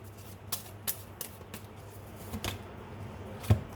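Oracle cards are shuffled and drawn, producing a series of soft, quick riffling snaps and taps at irregular intervals, close and quiet, ending with one firmer tap.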